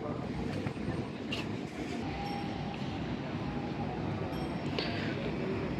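A train rolls past at a distance, a continuous low rumble of wheels on rails with faint clattering and occasional high squeals, fairly quiet throughout.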